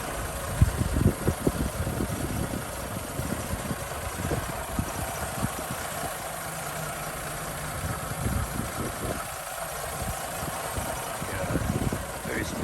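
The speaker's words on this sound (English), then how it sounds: "very smooth idle with great sound" A 1954 Mercedes-Benz 220 Cabriolet idles smoothly with its hood open, a steady low engine rumble heard nearby with occasional thumps and handling noise, and no speech in the clip.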